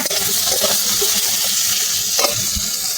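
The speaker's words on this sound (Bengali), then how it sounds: "এবার নেড়ে চেড়ে ভালো করে ভেজে নেব আলুটা" Potatoes fry and get stirred in hot mustard oil left over from frying small mourala fish, with a steady loud sizzle and occasional scraping stirs close up.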